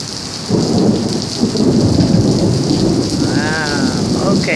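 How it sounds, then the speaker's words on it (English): A heavy thunderstorm on Florida's east coast roars with dense, steady rain and rumbling thunder throughout, loud and close, with a cat's meow briefly rising over the downpour. "it's a real bad storm"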